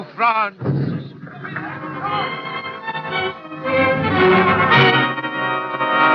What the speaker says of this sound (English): A British shell from their battery at Point-Levis.